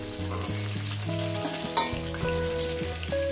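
Bogo fish frying in hot oil in a home kitchen, a loud, steady crackling sizzle throughout with a few brief scraping clinks of a utensil, and no one speaking.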